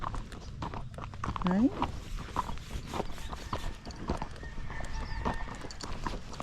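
A Tennessee Walking Horse mare walking on a trail, her hooves clip-clopping in an uneven rhythm close by, with a person talking over the steps.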